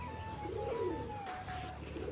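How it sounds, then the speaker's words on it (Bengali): Two young white pigeons give soft, low cooing calls close by, steady murmurs over a faint hum of background noise, with no voices. "এই দেখুন দুটো সাদা বাচ্চা পায়রা চলে এসছে কোথার থেকে"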